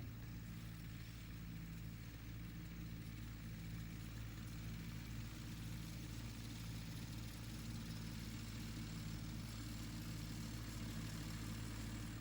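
A Ferguson FE-35 tractor with a TVO engine, running a mid-mounted mower, gives a steady low idling hum with even, continuous harmonics. It stays faint and unchanging throughout, with no talk.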